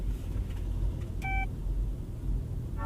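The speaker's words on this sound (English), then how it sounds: "You also get a notification sound indicating that this is already turned on" A short electronic chime sounds about halfway through as a 2025 Toyota Ativ 1.5 HEV hybrid powers on, a clear tonal beep over a steady low cabin rumble.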